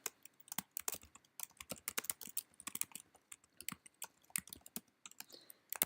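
Fingers type on a computer keyboard, a quiet, close run of quick irregular key clicks with short pauses between bursts, no voices.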